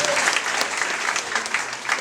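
A church congregation claps during worship: dense, steady applause fills the space throughout, with faint voices beneath.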